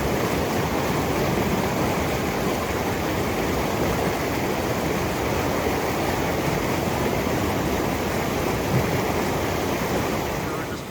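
A mountain creek beside a hiking trail near Michelle Lakes and Pinto Lake keeps up a constant broadband rush of flowing water, steady and fairly loud for the whole stretch with no talking over it.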